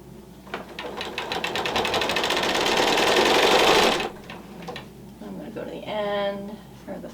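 A sewing machine stitches quilt seams in a fast rhythmic run that builds and then stops abruptly, with a voice talking after the stitching halts.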